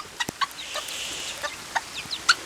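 Backyard chickens cluck on a rainy October morning, making short, sharp clucks and quick calls at irregular intervals, close and fairly clear over a soft hiss of background noise.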